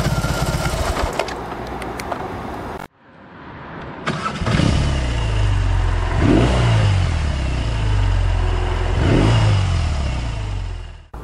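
BMW R18 Transcontinental, an 1,800 cc boxer twin motorcycle, cranks and fires into a loud, close idle, then three sharp throttle blips rise and fall over a deep throbbing rumble.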